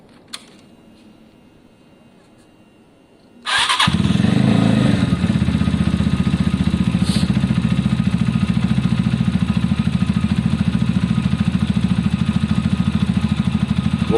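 A Zontes motorcycle engine fires up after a short quiet stretch and settles into a loud, steady idle with a fast, even pulsing beat, heard close.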